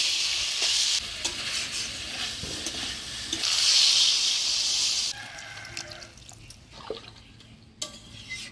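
Potato and cauliflower pieces with tomato are stirred through a spiced masala in a hot pan. A loud, hissing sizzle fills the first five seconds, then eases into quieter scraping and occasional wet clinks of the spoon.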